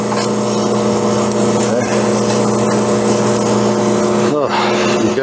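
An evaporative cooler running with its motor and belt-driven squirrel cage fan, a loud steady hum with a constant droning whir throughout, one brief word spoken over it.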